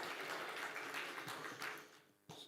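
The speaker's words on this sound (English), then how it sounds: "Please give her an excellent round of applause." Delegates at a scientific conference applaud in a soft, distant patter of clapping that fades toward the end before a last brief swell.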